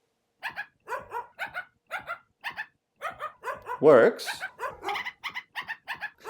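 Recorded dog barks play back as a quick, evenly spaced series of short yaps at varying pitches, clear and close, with a single brief spoken word mixed in partway through.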